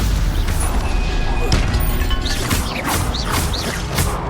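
Protego and Stupefy spells are cast in Hogwarts Legacy, giving a dense, crackling clash of magical whooshes, impacts and mechanical rattles, with a few swooping zaps near the end over constant loud combat noise.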